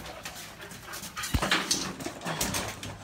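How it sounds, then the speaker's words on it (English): Dogs whimper and whine softly with a few short panting breaths, close by and fairly quiet, in a brief indoor moment with no talking. "These are our friend's dogs."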